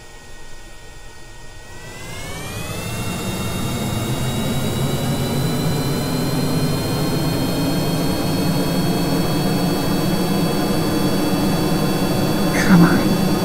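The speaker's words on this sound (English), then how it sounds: "Start the jet engines." Jet engines in Kerbal Space Program throttle up, a low rumble rising into a loud, sustained whine with steady tonal lines, holding near full power after a couple of seconds.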